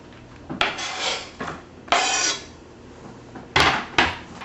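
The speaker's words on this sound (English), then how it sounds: "I'm chopping up the smoked salmon into, you know, quarter-sized pieces." A knife chopping smoked salmon into quarter-sized pieces on a board, with several separate cutting strokes, some longer and some short, close and fairly loud with pauses between them.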